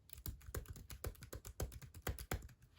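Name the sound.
typing on laptop keyboard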